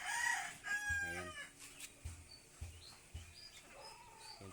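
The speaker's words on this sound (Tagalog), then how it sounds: "Ayun yung dalawang barako, malalaki yan." Two big roosters on a small farm crow loudly and close by, followed by a run of short, rhythmic clucks and low chortles, with faint chirping birds in the background.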